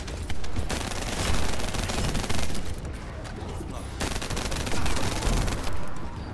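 Sustained automatic weapon fire at an enemy in the looter shooter The First Descendant, with heavy, continuous bursts and brief gaps between them, loud and near throughout.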